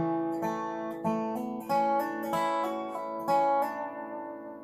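Slow, deliberate dobro lick of hammer-ons and pull-offs, each plucked note ringing and sustaining before the next, played alone and close with a spacious, even pace.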